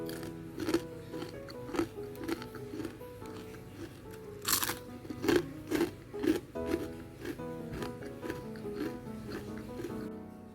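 Close, crisp crunching bites and chewing of fried cireng, a steady series of crackly crunches over a low background hum, with one louder snap midway.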